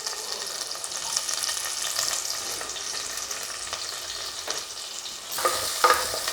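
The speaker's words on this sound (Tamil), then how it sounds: "ஒரு சின்ன பிட்டு இஞ்சி பொடியாக வெட்டி வச்சுருக்கேன், இஞ்சி போட்டுடலாம்" Ginger, green chili, onion and curry leaves sautéing in a pan for rava vegetable pongal, giving a steady close sizzle with occasional stirring scrapes and a louder burst near the end.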